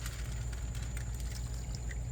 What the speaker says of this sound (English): I'm going to pour all these good juices into here.